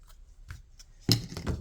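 Scissors snip ribbon for a gift card sleeve: a couple of faint small clicks, then one crisp close cut near the end, with no talk.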